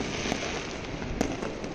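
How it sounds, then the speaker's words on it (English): New Year's Eve fireworks set off by neighbors in the distance: a couple of sharp pops and bangs stand out against a steady crackling, smoky hiss of ongoing bursts. "Thank you all my neighbors so I can enjoy this free fireworks show for 6 hours on the New Year's Eve."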